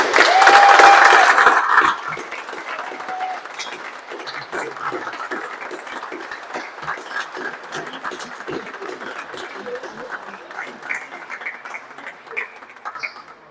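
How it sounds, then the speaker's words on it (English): Sustained applause from a crowd at the end of a squash match, loud at first and then thinning into a steady patter of clapping that continues to the end. "Massive round of applause one last time for Jonny and for Tony."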